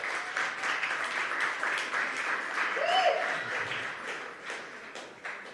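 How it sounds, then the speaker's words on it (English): An audience at the Mayor's Youth Summit breaks into warm applause, a dense crowd of clapping hands that swells and holds steady for several seconds, with a few faint voices mixed in. "let's give yourselves a big round of applause"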